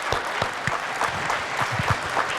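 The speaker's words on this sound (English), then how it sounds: "I want to give you a big round of applause" Applause at the close of a National Weather Service severe weather training presentation, a steady wash of clapping with a few sharper individual claps standing out throughout.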